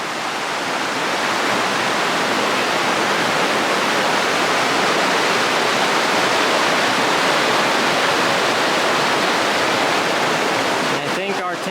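Miners Creek rushing along a trail campsite: loud, steady broadband water roar, close by and unbroken throughout, with a brief disturbance at the very end.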